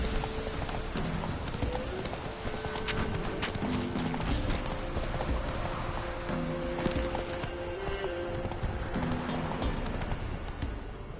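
Roach, a horse in The Witcher video game, gallops with steady, rhythmic clip-clop hoofbeats over game music throughout, with a brief whinny.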